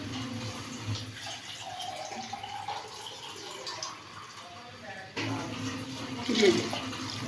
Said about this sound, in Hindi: अभी मैं डालूँगी आपके सामने पानी